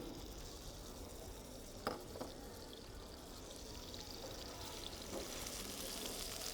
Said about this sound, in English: We're going to put a little oil in the skillet here. And then we're going to add the hamburger meat.